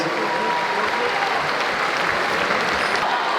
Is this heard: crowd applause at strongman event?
yes